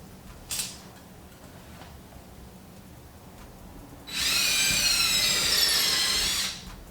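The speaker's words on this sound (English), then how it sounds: "The rod hanger gets threaded in using a socket wrench" A socket wrench threads a rod hanger into a garage ceiling joist. After a brief knock comes one sustained, fairly loud mechanical whir of about two and a half seconds, with no speech.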